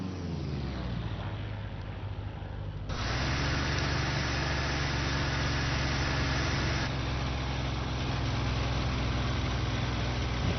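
A P-51D Mustang's engine idles in the IL-2 flight sim, a steady, full drone that grows louder and rougher after about three seconds and holds, with no talk.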